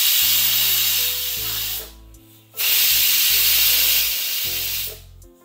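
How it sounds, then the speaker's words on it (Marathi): Steam venting from a pressure cooker after cooking moong dal on a stovetop, a loud steady hiss that briefly drops away twice before surging back, with a low hum beneath. "जोपर्यंत आपली वाफ निघते"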